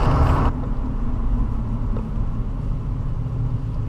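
A Nissan Skyline 25T passes by, a low broadband engine rumble that stays steady and fairly loud throughout, with a brief brighter burst at the very start, no talk.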